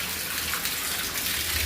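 A bathroom hand shower sprays a steady hiss of water, running continuously and close by without any voices.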